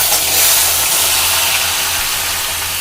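Chopped ash gourd and potato hit a hot pan, producing a steady loud hiss and sizzle with a low background hum, no talking.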